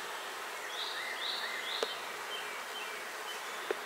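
Honey bees crawl over a hive frame, a steady, close, even buzz from many bees, with a couple of brief clicks.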